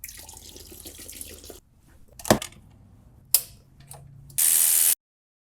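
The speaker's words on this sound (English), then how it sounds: "for this hose, keep me out of the splash zone, I just take a pry bar" Coolant drains from a hose on a BMW 328xi E9X with the N52 engine after it is pried loose with a pry bar. Sharp metallic clicks and clanks come first, then a short, loud rushing gush of liquid, with no talking.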